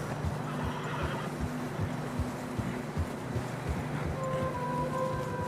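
Horses in the snowy mountains of the video game Red Dead Redemption 2 neigh and whinny, with rhythmic hoof clops beneath and a windy ambience, fairly close and loud over the whole stretch.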